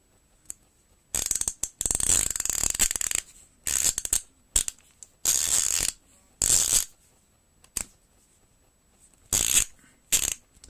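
A Lidl Powerfix offset ratchet, freshly greased, gives bursts of rapid loud clicking, six or seven separate runs of ratcheting with short pauses between, close up and without speech.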